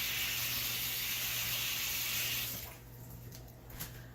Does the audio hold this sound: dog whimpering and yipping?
no